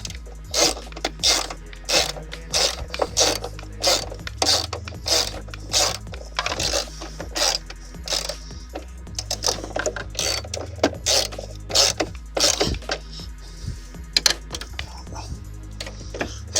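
A ratchet cranks a headlamp adjuster screw on a 1991-99 Chevy/GMC Suburban K1500, close and loud, in a fast rhythmic run of clicking strokes repeated across the whole stretch.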